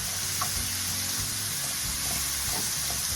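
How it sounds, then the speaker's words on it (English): Jerk chicken for gyros frying in a pan over medium-low heat, a steady close sizzle with soft stirring scrapes throughout, no one speaking. "See, you want like a nice fry to it"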